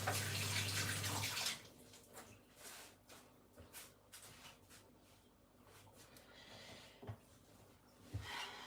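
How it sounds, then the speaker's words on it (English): Hands are washed under a running kitchen tap while cooking, with a steady gush of water at first, then quieter splashing, rubbing and dripping and a couple of small knocks, close by. "Wash one's hands."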